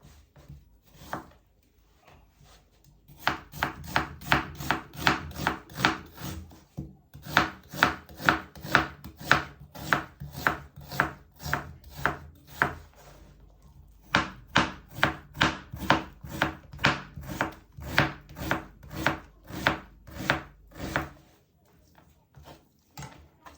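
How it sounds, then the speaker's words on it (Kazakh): A knife chops an onion into small cubes on a board: close, fast, steady knocks in long runs, broken by a short pause near the start and another midway. "Ал енді осы жуамызды жайды көбектеп турап аламыз."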